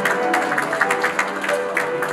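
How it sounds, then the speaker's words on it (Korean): Audience applause at a Korean new technology and new product certificate award ceremony, a steady, dense wash of clapping across the room that runs throughout, with tonal sound mixed in beneath it. "다시 한번 큰 박수 부탁드립니다."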